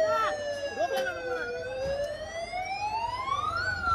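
Fire engine siren on a busy street, wailing nearby and rising and falling in pitch over steady traffic noise while a person talks.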